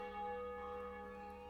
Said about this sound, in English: the many church bells ring out marking the 8 a.m.